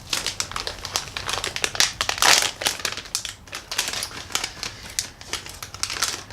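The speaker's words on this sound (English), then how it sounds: "I have to tear it open" A package holding Wi-Fi control switches is torn open up close, with continuous loud crinkling and ripping of packaging in uneven bursts and a sharper tear partway through.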